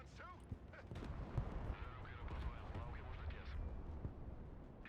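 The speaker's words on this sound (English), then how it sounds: "I'm getting hit by artillery from the right side" Artillery shells strike in the video game Broken Arrow, a dense run of booming impacts and crackling blasts rolling on for several seconds at moderate distance, with no talk over them.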